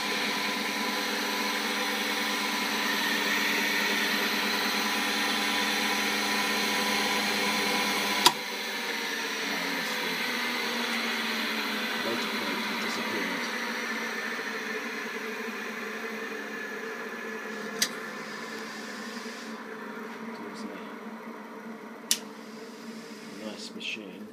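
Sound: polisher buffing machine running

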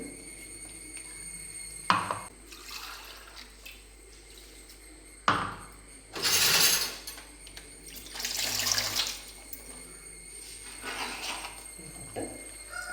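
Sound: water being poured into roasted rice flour

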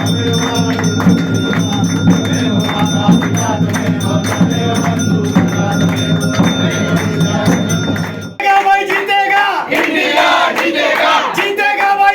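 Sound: cricket fans chanting India India slogans

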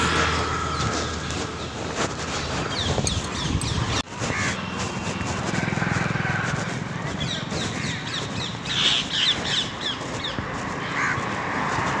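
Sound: birds calling, crows cawing, during an evening walk

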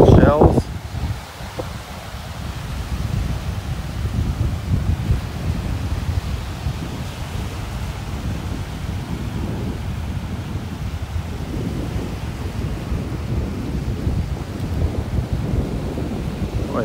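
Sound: strong wind on a beach

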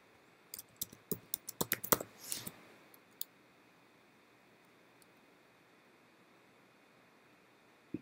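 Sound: typing on a computer keyboard

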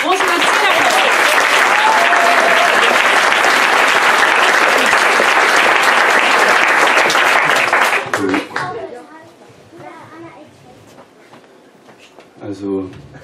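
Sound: audience applause at poetry slam

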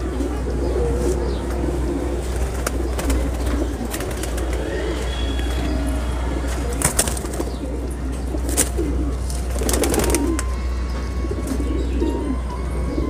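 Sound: Kasni pigeons cooing and flapping

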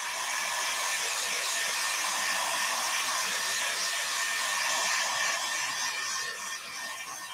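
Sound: heat tool drying wax on notebook

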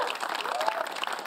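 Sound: audience applause on TV show

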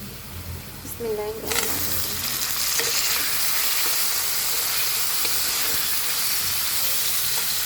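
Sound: onion frying in a pan

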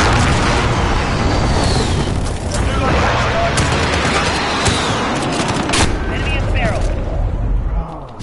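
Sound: cruise missile strike in a video game

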